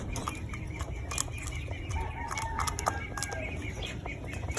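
Racing pigeons in a flyers loft flapping their wings and pecking at feed, a busy mix of wing flutters, soft clucks and coos over a continuous background bustle, close and fairly loud.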